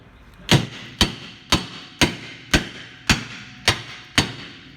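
A big hammer bangs on the rear brake drum of a Ford Focus Mk2 during a wheel bearing replacement. Nine sharp metallic blows land at a steady rhythm, loud and close, with no talking.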